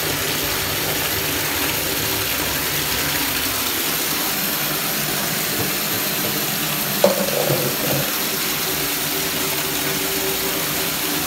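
Hot water running steadily while clothes are washed by hand, a continuous close splashing rush with a brief clunk midway and no talking.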